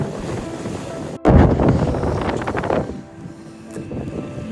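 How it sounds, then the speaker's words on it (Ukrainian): Gusts of wind buffet a camera microphone at the seaside in Odesa with loud, rumbling low-end bursts, easing after a few seconds, with sea sounds faintly underneath. "А вітер скрипить у камеру,"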